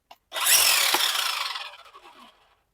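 A DeWalt cordless trimmer with two speeds is switched on and off: a bright whirring burst starts abruptly, holds steady for about a second, then winds down and fades out alone.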